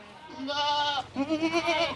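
A Sirohi goat on a farm bleats twice in close succession, loud and near, the first call drawn out and steady and the second wavering and quavering.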